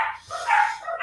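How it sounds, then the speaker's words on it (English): Pet dogs bark and whine close by in a continuous, agitated stretch of overlapping yelps that rise and fall with no pause, filling the room. "Sorry about my dogs; they just get antsy for no reason."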